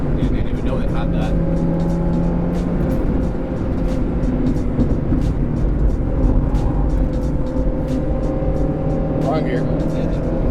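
A junkyard-spec NB Miata with a 6-speed gearbox revs steadily on an uphill mountain road, its engine droning loud and close throughout with shifting pitch, while occupants talk over it.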